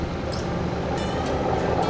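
A lobster boat's engine drones steadily, a low continuous rumble close by on the water off Down East Maine, a constant hum with no talking.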